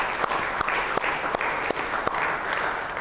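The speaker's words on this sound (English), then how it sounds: "let's give them a round of applause as well" Students in a class applaud classmates during an exam review session, producing a continuous, moderately distant patter of many hands with scattered sharper individual claps throughout.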